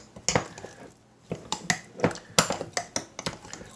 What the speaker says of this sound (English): Trusty metal spoon,